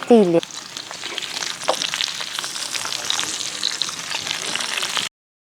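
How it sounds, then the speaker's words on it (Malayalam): Tilapia fish frying in hot oil during Kerala-style village cooking, a steady loud crackling sizzle that starts after a short opening sound and continues evenly until it cuts off. "അപ്പൊ മീൻ പൊള്ളിക്കാൻ മീൻ ഇവിടെ ആക്കി വെച്ചിട്ടുണ്ട് അപ്പൊ നമുക്കിത് എണ്ണയിലേക്ക് ഇട്ട് കൊടുക്കാം"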